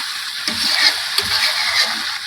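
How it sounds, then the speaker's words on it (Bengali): Chicken and sweet pumpkin stir-fried together in a pan, a steady close hiss of frying with soft stirring scrapes and small splattering bursts throughout. "এখন ভালো করে মিষ্টি কুমড়োর সাথে মাংস দিয়ে একসাথে কষাবো"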